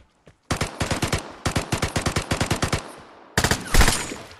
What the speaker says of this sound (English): that's the grease gun